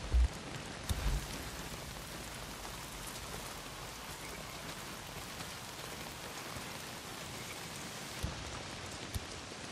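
Heavy rain pours down in the video game Days Gone, a steady, dense hiss of drops hitting surfaces that runs unbroken for the whole stretch, with a couple of brief low thumps near the start.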